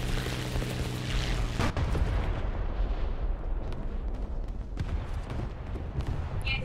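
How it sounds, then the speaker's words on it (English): Huge bombs exploding in a tank battle video game set at a cargo port, a dense, continuous roar of heavy booms and rumbling blasts with sharp cracks near the middle and end, loud throughout. "those bombs are fucking gigantic"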